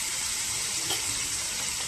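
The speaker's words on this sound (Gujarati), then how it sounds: "તરત જ આપણે અડધો ગ્લાસ જેટલું પાણી ઉમેરી દઈશું" Water pours steadily from a glass into a pot of tempering for instant sambar, a close continuous splashing gush with no voices.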